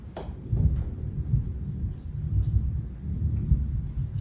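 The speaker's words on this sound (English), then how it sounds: "Hear the thunder? That's the reason why we're inside." Distant thunder during a rainy day, heard from indoors where people are playing golf: a low rolling rumble that swells and fades several times, faint and unbroken, with no talk over it.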